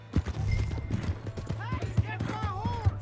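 Horse hooves clip-clop at pace in the video game Red Dead Redemption 2, rhythmic thuds close up with shouted voices and game sounds over the top.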